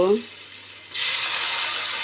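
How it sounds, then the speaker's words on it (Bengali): A splash of water poured into a pan of frying cumin and spices bursts into a loud, steady hiss that carries on to the end, following a brief moment of quiet. "এখন একটু পানি দিব"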